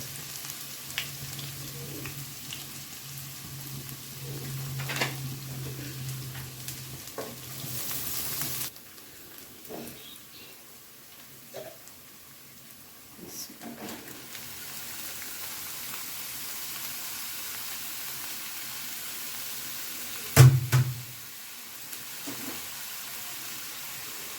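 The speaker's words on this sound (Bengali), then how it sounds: "আমি আগে ধুন্দুল ভাজি করব আজকে ধুন্দুলটাকে দিয়ে ভাজি করবো" Ridge gourd frying in very hot oil in a pan makes a quiet, steady sizzle with occasional stirring taps and a sharp utensil knock near the end, with no talking.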